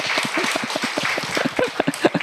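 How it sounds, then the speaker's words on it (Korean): Church congregation clapping together during a sermon, a dense run of many hands with uneven rhythmic bursts that grow louder toward the end, close and lively. "우리 박수 한번 해줄까요?"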